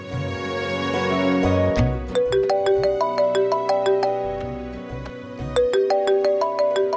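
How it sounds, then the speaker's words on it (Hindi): A mobile phone ringtone plays a bright, repeating electronic melody, loud and steady, over a low musical backing throughout. "अरे तुम्हारा बार बार फोन क्यों बजी जा रहा है?"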